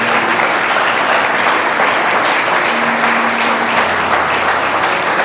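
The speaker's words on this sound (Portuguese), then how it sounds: "eu queria que a gente se aplaudisse nesse momento" A large audience at a gathering applauds loudly and continuously, a thick wash of clapping with no pauses and a faint low hum underneath.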